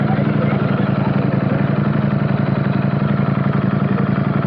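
BMW S1000RR sport motorcycle engine idling through its exhaust, a steady, dense, close rumble with a fast even pulse that holds unchanged throughout.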